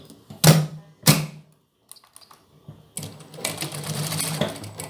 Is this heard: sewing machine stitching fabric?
yes